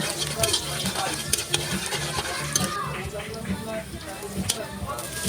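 Garlic and onion sautéing in a pan for pancit bihon, a steady sizzle and frying crackle with stirring scrapes, while a person talks over it throughout.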